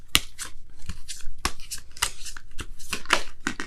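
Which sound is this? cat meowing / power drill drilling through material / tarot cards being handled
tarot cards being handled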